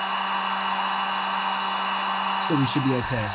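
A heat gun on low blows steadily with a constant whirring hum while shrinking heat shrink tubing on car wiring, and someone talks over it near the end.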